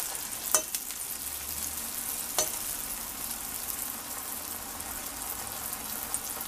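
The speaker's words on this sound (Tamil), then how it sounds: "அப்பத்தை ஊற்றி எடுத்துடலாம். கடாயில் எண்ணெய் ஊற்றிருக்கேன், எண்ணெய் சூடாயிடுச்சு." Hot oil in a kadai with appam batter for Diwali sweets, a soft, even background sizzle with a couple of faint clinks, quiet and steady without any voices.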